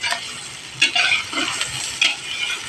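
Garlic browns and sizzles in a hot pan with a steady crackling hiss, broken by a few sharp scraping strokes of a utensil stirring it, close up and without talk.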